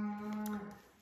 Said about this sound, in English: you can hear the cows outside the window there